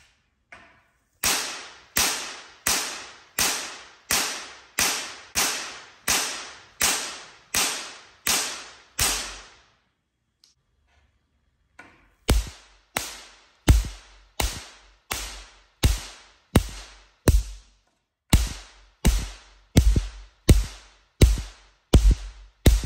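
A giant static electricity tower fires high-voltage capacitor discharges at 30,000 to 40,000 volts, each one a sharp, loud, cracking snap. They come in a rapid, even series, stop for a short pause, then start again in a second burst.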